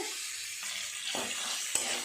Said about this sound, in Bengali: মাছের মাথাটাও ভাজা হয়ে গেছে